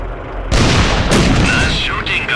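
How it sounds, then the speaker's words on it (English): A heavy artillery blast in the tank game World of Tanks during a clan wars battle: one loud, broad boom that sets off suddenly and rolls on with a rumbling tail, followed by a second burst and faint tonal sounds behind it. "Artillery shot."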